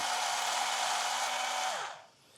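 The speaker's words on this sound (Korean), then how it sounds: "갈아줍니다." Blender motor whirring steadily as it grinds a mayonnaise-style mixture of egg yolks, salt and pepper for a mayo-free potato salad, loud and continuous, then spinning down and stopping near the end.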